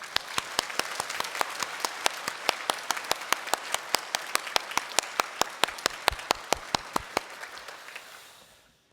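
A church congregation applauds during a Sunday worship service, a dense, steady round of clapping that carries on for about seven seconds before tapering off.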